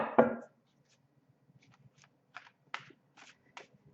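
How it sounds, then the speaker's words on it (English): Tarot cards shuffled in a quiet room: a sharp slap at the start, then scattered soft riffling taps and short papery bursts, close and sparse. "as I shuffle the cards"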